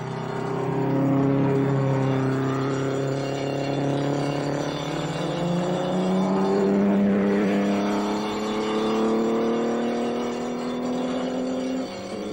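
Grand Prix racing cars of 1937 roar past in a continuous loud, droning engine howl, pitch rising and falling as they accelerate, with no talking.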